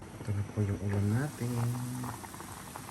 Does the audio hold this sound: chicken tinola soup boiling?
yes